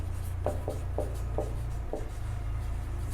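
A pen scratches on paper in a series of short, soft, evenly spaced strokes during a geometry exercise, heard up close and quiet over a steady low hum.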